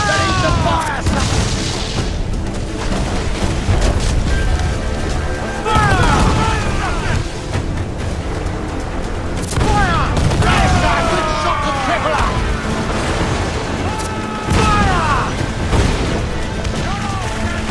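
Ship cannon fire in a pirate naval battle in Assassin's Creed 4 Black Flag, heavy booms recurring every few seconds amid continuous battle noise, shouting crew voices and rising whistling sounds.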